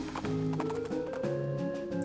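Rhythmic clip-clop of a horse's hooves in the video game West of Loathing, steady and fairly quiet, with faint musical tones behind.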